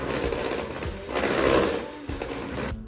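An electric mixer whirs through butter for hot chocolate cookie dough, a steady close motor drone that swells and dips as the beaters work, with a couple of brief knocks against the bowl.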